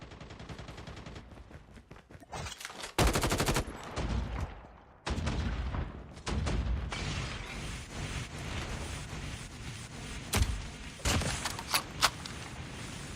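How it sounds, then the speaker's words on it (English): Turret gunfire in the Undead Siege video game, loud sustained rapid automatic bursts with short gaps and heavier blasts, close and dense over the whole stretch. "the trouble is the turrets"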